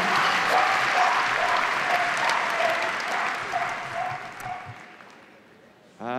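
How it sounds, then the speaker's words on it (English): Audience applause ringing out at a Crufts dog agility competition, a steady wash of clapping from a large indoor crowd that gradually thins and fades over several seconds. "Big round of applause for the shining image."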